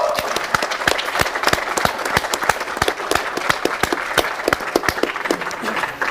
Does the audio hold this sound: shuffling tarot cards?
no